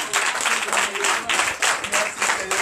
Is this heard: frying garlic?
no